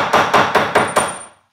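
Five quick, evenly spaced hammer blows strike a bolt while a VR5 engine is being dismantled. Each is a loud, close metallic knock, and a ringing tone fades out after the last hit.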